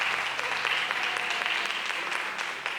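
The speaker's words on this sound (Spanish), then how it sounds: "Aplaudan." A church congregation claps during a Spanish-language sermon, producing dense, steady applause with many hands throughout a large room for a few seconds.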